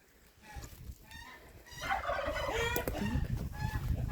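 A flock of domestic geese calls loudly outdoors, overlapping honks and cackles building after a quiet start and continuing in a noisy, close chorus.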